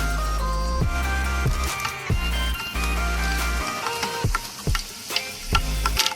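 Peanuts roasting in a pan in a village kitchen give a steady close-up sizzle and crackle, with several sharp scraping or stirring knocks scattered through and a low hum running underneath.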